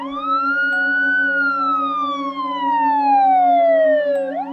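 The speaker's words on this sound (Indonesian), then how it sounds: "sampai-sampai sirene di ambulan itu berbunyi sendiri" An ambulance siren gives a loud, close, continuous wail that rises, then slowly sweeps down before snapping back up at the end, with no speech.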